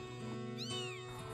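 A cat meows at breakfast feeding time while being given Whiskas, one clear, rising-and-falling meow up close over a steady background hum.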